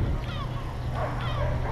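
A dog walked beside a bicycle outdoors lets out a couple of short yips and whimpering barks, moderately close over steady low traffic rumble and street noise.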